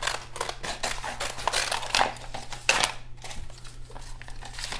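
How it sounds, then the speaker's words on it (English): Scissors snip out images from a transfer sheet, a rapid series of close crisp cuts with rustling paper between them. "I'm gonna take this transfer and I'm gonna cut out the images that I plan on using"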